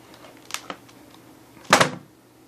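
A membrane keyboard drops onto a surface, landing with one short, loud, hollow clatter after a couple of light plastic taps from handling.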